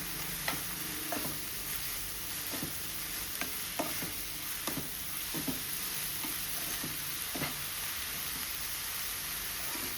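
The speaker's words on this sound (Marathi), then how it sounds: "मातसो कांदो फास्ट भाजून येतलो." Chopped onion fries in a pan with a steady sizzle, broken by sharp scraping and clinking stirs at irregular intervals, close up and quiet with no talk.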